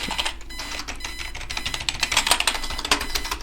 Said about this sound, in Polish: klikam każdy możliwy przycisk na tej klawiaturze